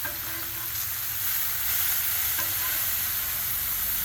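Bacon sizzles on a Blackstone griddle with a steady, bright, hissing crackle, close and continuous throughout with no talking.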